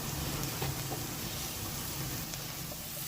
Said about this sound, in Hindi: हरी मिर्चें भी डाल देंगे, ये भी फ्राई होना शुरू हो जाएगा